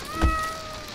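A cat meows once in the VR game Just in Time, a short, fairly close call over faint game music and ambience.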